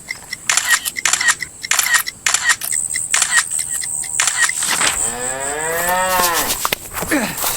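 Cattle give a long, sweeping moo near the end, close and fairly loud, after a stretch of rapid, sharp clicking bursts.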